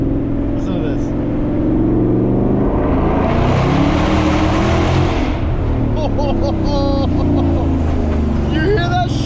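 A Mustang GT 5.0 V8 fitted with an MBRP race exhaust roars loud and close inside a tunnel, a sustained rumbling drone that swells as it accelerates and echoes off the walls.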